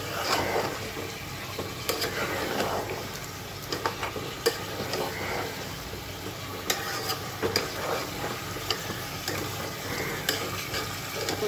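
Beef in a mustard gravy sizzling in a pan as it is stirred and turned over, soft steady frying with scattered close scraping clicks throughout.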